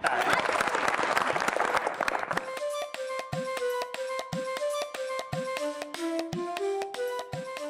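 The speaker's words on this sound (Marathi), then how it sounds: "त्यांच्यासाठी पण टाळ्या." A room of people clapping for a beloved grandmother on a Marathi TV serial set; the dense applause lasts about two seconds, then stops as plucked musical notes take over in a steady, rising pattern.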